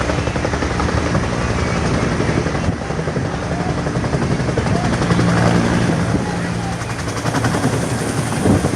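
Loud, continuous chopping rotor roar of a firefighting helicopter close overhead near a fire, preparing to scoop water, with voices faintly audible beneath the noise.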